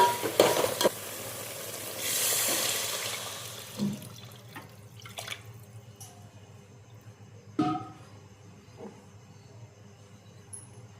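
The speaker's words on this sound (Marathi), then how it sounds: "हे चांगलं परतून घ्यायचं तेल सुटेपर्यंत" Rice and spices being sautéed in oil for pulao, with a dense bout of stirring and sizzling early on, then quieter scraping and occasional utensil knocks, including one sharp clatter near the end.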